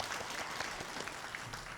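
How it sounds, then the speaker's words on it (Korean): A church congregation applauds the praise team after a service prayer, a continuous, fairly faint patter of many hands spread evenly throughout, heard from a distance without speech. "오늘도 은혜로운 찬양으로 섬겨주신 은평찬양단 박수로 격려하겠습니다."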